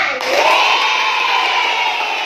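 Schoolchildren in a classroom cheer and clap together in a sustained, loud burst of shouting voices, steady across the moment.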